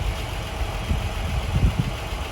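Ford Mk1 Granada Ghia with a 3.0 V6, idling steadily with a low rumbling throb and a few brief louder pulses, close by, no voices.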